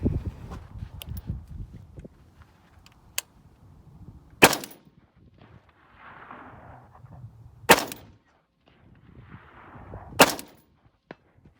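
Rifle shots ring out at a 225-yard bowling pin competition, three sharp loud cracks spaced a few seconds apart, with faint wind and quiet movement in between.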